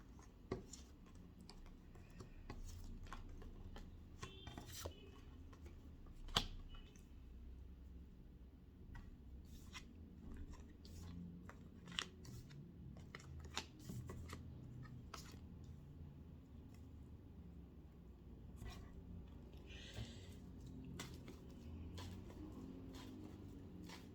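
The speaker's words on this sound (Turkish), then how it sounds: "Sonra tekrardan kartları açacağım bunun üstüne." Tarot cards are shuffled and laid out on a table close by, giving soft scattered taps, flicks and brushing slides at a low level, with no voices.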